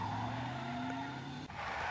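Car in the Max Payne 2 video game skids with a steady engine drone and tire squeal, then a brief break near the end before the roar continues.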